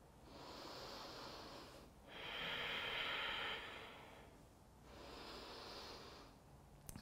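Someone on a yoga mat takes slow, audible breaths after a pose: three long airy exhales and inhales, close and soft, with a brief pause between each and no talking.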